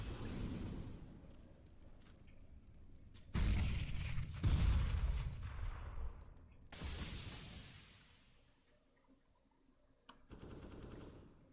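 Grenades burst in a school esports video game match, a dense rattle of gunfire and heavy booms surging in loud waves midway, fading to quieter shots before a final burst near the end.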